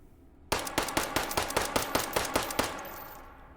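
Ten rapid shots from a Ruger Mark IV .22 LR pistol in the H3VR virtual reality game, sharp evenly spaced cracks in a quick burst, then a fading tail into quiet.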